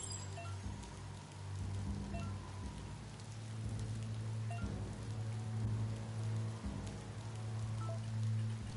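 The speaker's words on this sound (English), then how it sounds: "It's starting to rain." Rain falls steadily in the Biomutant video game, a soft, continuous patter on surfaces with low rumbling beneath, quiet and with no talking.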